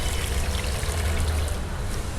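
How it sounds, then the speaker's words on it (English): Water poured steadily into a plant container partly filled with potting mix, a continuous close trickle and splash with no pauses. "fill this with the water"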